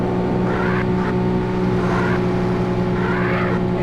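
A Lamborghini races in Need for Speed, its engine holding a loud, steady high-revving drone while repeated gear-shift sweeps rise and fall.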